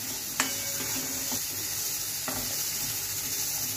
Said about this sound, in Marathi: हिंग पण छान परतून घ्यायचं आहे।